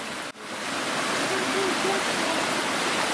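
A mountain stream in the Ergaki taiga rushes in a steady, loud broadband roar close by, with faint voices briefly under the flow.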